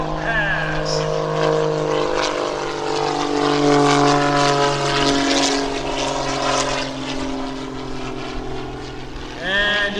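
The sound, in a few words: Pitts aerobatic airplane rolling to knife edge at airshow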